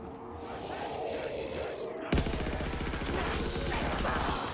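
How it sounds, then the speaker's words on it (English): Fast-firing gun in Black Ops custom zombies, a sudden loud stream of very rapid evenly spaced shots that starts partway in and runs to the end, following quieter ambient game noise with some talking. "Wow, this gun shoots really fast,"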